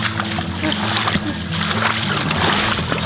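A small boat on a creek splashes and sloshes through the water, loud, close spatters and churning continuing throughout, with people talking over the noise.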